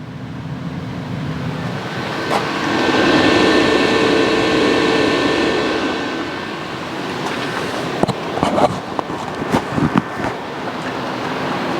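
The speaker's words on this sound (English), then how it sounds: "the fan will take over and it'll start building up temperature" Blower fan running on an Oklahoma Joe Tahoma 900 auto-feed charcoal smoker, a steady broad whooshing drone heard close up that swells in the middle, with a few knocks and clatters near the end.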